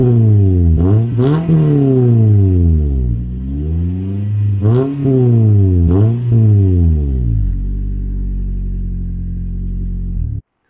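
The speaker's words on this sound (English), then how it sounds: "This is a really good sounding exhaust, not too loud, but loud enough where you can hear it" A Toyota Corolla engine starts up and revs hard several times through a throaty aftermarket performance exhaust, then settles into a deep, steady idle before cutting off.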